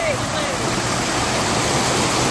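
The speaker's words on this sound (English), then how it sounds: "Got a huge waterfall." A huge waterfall roars as a steady, loud broadband wash of falling water, heard close by from a wooden stairway leading down beside it, with no break throughout.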